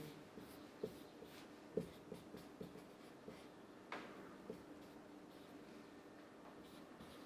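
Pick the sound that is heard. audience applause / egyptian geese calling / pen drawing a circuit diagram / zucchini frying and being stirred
pen drawing a circuit diagram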